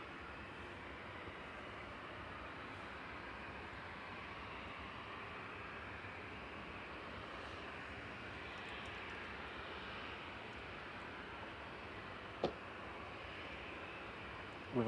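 A TUI airliner bound for Ibiza rumbles at Manchester Airport, a faint, steady distant engine roar that holds evenly throughout with no voices over it.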